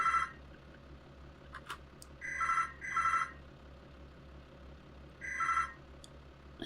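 Telephone bell rings in short repeated bursts, three or four rings spaced a second or two apart, moderately loud over a low steady background hum, with no talking.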